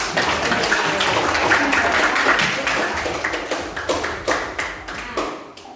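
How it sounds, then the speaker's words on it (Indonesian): Applause in a classroom during a teaching-practice lesson: dense, steady clapping from a group of students, loud and close, thinning out into scattered separate claps toward the end. "kita beri aplaus untuk kita semua"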